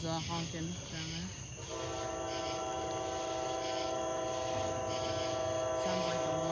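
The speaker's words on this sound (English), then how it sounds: "Sounds like a horn." A CSX freight train horn sounds from a distance beside the tracks, a steady multi-tone blast held for several seconds over low rumbling hum, with a brief earlier toot.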